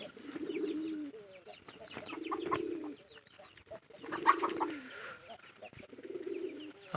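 Native domestic pigeons coo in a small farm loft, with four low, rolling coo phrases repeating every couple of seconds at close range, alone with no talk.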